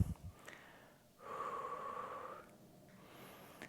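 A single long, breathy exhalation during a home Pilates mat workout, preceded by short sniffs and gasps, close to the listener with no talking.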